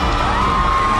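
An audience cheers and applauds for the newly crowned Mister Tahiti 2024 at the pageant, a dense, loud, continuous wall of crowd noise with whoops and no clear speech.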